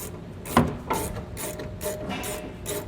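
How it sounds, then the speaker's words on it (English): A ratchet wrench with a 14 mm socket tightens bolts on a leaf spring while a suspension leaf spring enhancement kit is installed. Close, repeated bursts of clicking arrive in an uneven rhythm. "we'll take our 14 millimeter socket"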